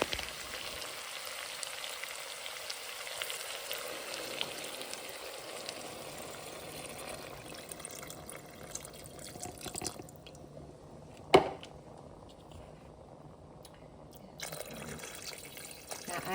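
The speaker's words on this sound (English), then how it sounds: "now I'm just going to dump in the 8 cups of water" Eight cups of water poured into a soup pot already holding chicken bouillon paste: a steady gushing pour for several seconds that thins out, then one sharp clunk.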